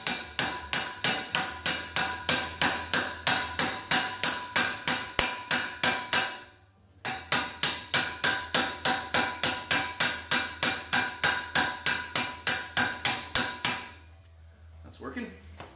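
Steady rapid hammer taps drive a socket onto a snow blower shaft, a sharp metallic strike roughly every third of a second, pausing briefly midway and stopping near the end.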